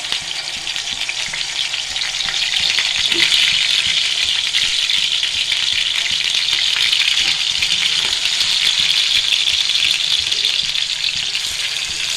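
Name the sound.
fish pieces frying in hot oil in a pan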